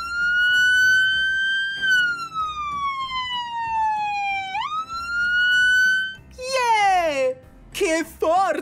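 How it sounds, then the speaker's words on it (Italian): Police car siren and loudspeaker, a loud sustained wailing tone that rises and falls, followed by warbling siren bursts near the end, over low street noise. "E poi qui sotto, questo è un altoparlante."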